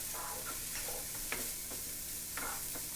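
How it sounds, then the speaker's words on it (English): Fried rice with beets, onion powder and garlic powder stir-fried in a pan, a soft steady sizzle under faint scraping and tapping of a utensil stirring, close by and quiet. "And we're just going to stir fry it."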